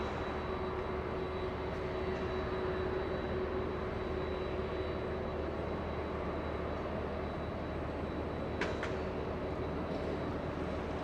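Boeing 737 airliner at Los Angeles International Airport, a steady broad jet engine roar with a faint whine, distant and unchanging throughout, with no voices.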